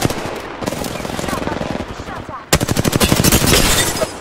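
Rapid automatic gunfire in Apex Legends, loud bursts of closely spaced shots with a short pause near the middle before a second sustained volley.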